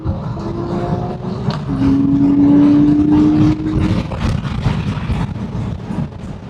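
Porsche Boxster Spyder engine accelerating with the top down on a road in Fort Myers, a loud rising engine note with a tonal whine climbing after a gear change, mixed with wind rush.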